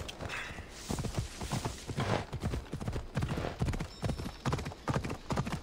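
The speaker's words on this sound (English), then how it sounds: "Take the horse here." A horse's hooves clip-clop in Assassin's Creed Odyssey, a steady trotting rhythm of sharp, close hoofbeats on hard ground with faint background ambience.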